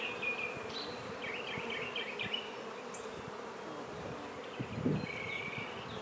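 A honey bee swarm drones in a steady, dense buzz close by, with individual bees whining past now and then and a soft thump near the end.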